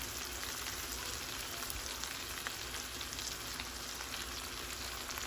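Stuffed salmon sizzles and fries steadily in a pan on a stovetop, a constant crackling hiss with no talk, even and continuous throughout.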